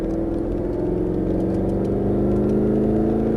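Mercedes-Benz SLS AMG on a track in Las Vegas, engine droning loud and steady from inside the car as the throttle is squeezed out of a corner, pitch rising gradually.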